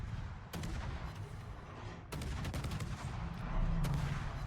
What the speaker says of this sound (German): Ich habe jetzt versucht, mit AP auf die Aufbauten zu schießen.